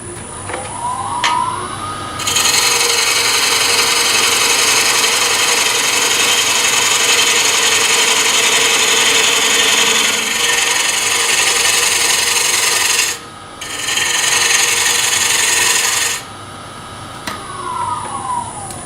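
A bowl gouge cuts a wood tenon on a spinning lathe with a continuous, loud rasping hiss. The cut breaks off briefly near the end, then resumes before the tool lifts away.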